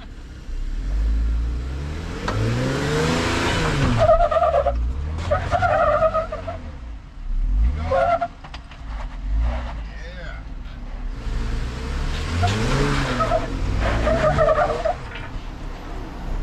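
An off-road vehicle crawls up a Moab trail obstacle in four low with the rear locked, its engine revving and surging in repeated bursts close to the microphone while people talk over it.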